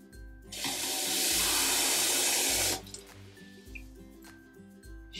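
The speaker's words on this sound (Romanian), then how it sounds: "Am acoperit cu apă" Water streams from a tap or jug over a pork roast in a baking dish, a loud, steady gushing pour lasting about two seconds before cutting off into quieter kitchen clatter.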